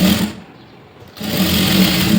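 A sewing machine stitches a folded blouse seam in a close, loud burst that stops for a moment and then whirs on again.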